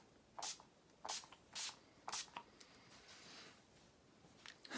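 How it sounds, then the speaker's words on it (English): Several short hissing sprays from an Urban Decay All Nighter setting spray bottle misted onto a face, close up, with brief pauses between bursts in an otherwise quiet room. "now I'm going to spray my face using the Urban Decay All Nighter"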